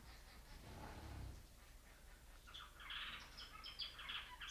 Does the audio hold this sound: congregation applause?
no